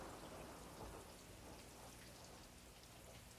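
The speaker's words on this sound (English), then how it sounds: "look at that rain. Oh, it's coming down in absolute buckets." Heavy rain pours down steadily in a dense, continuous hiss with no break across the whole stretch, set in Wales on the eve of Christmas.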